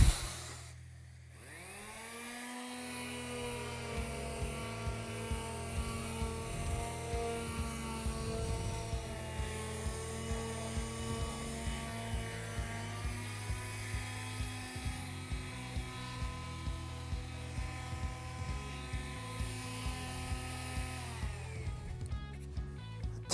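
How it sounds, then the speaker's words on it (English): Palm sander working the rounded edge of an end grain wooden cutting board: a steady high whine with a rapid regular pulsing buzz, starting after a brief spin-up and continuing alone at moderate level. "now I want to final palm sand this rounded"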